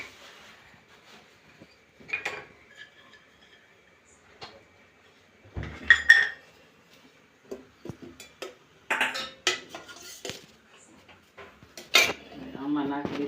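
Small metal idli bowls clink and clatter now and then as they are greased with oil, scattered sharp taps separated by quiet gaps, fairly close.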